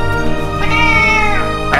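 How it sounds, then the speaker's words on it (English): A cat meows loudly and close by in one drawn-out, tonal call lasting under two seconds, with no other sounds around it. "today I want to introduce you my neighbors, my cats, Bagheera,"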